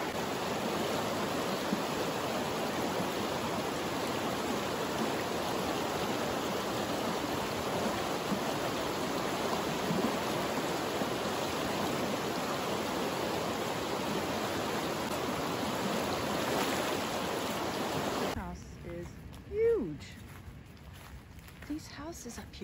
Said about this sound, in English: Damn, that water's going fast.